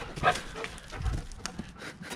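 A happy dog pants quickly and breathily up close, with a few soft whimpery sounds mixed into the short outdoor breaths.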